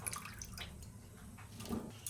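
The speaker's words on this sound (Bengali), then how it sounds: "জল থেকে ভালো করে ধুয়ে ছেঁকে ছেঁকে তুলে নিচ্ছি" Cauliflower is washed in salted water and lifted out to drain. Soft, close sloshing and dripping water run steadily and faintly, swelling a little near the end.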